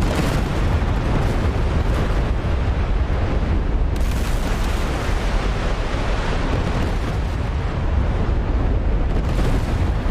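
Bombs from a B-52 Arc Light raid in a naval video game strike the battleship Tirpitz, a dense, continuous rumbling barrage of explosions, loud and unbroken, with a slight surge partway through.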